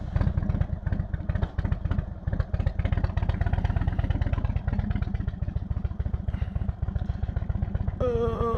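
A motorcycle rides along at steady speed with a loud, close, throbbing engine rumble and rattling, a voice briefly breaking in at the end.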